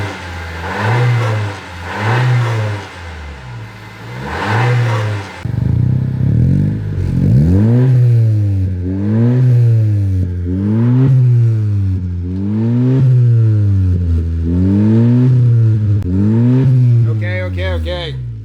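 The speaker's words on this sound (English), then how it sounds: "record some before exhaust sound so we have a good before" A 10th-generation Honda Civic with stock exhaust revs repeatedly close by, rising and falling in a steady rhythm of roughly a dozen throaty pulls, after a few shorter blips at the start.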